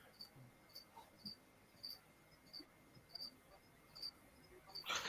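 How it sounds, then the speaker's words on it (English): Crickets chirp in faint, regular repeated pulses in the background of a tarantula enclosure room, with a louder rustle near the end. "The crickets have started calling."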